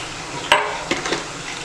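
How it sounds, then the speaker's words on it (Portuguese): Garlic frying in fat in a pan for tutu de feijão, a steady close sizzle with a few brief clatters of a utensil against the pot. "vou deixar um pouquinho de alho pra gente tá queimando na gordura"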